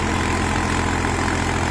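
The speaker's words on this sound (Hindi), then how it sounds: "ये एक तरीके से ओवरलोड टेस्टिंग चल रही है।" A Mahindra Yuvo 405 DI 4WD tractor engine labours under overload testing in a field, giving a steady, loud, deep diesel rumble that runs without a break.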